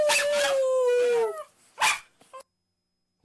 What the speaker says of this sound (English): My dog is just howling for a Clinton presidency.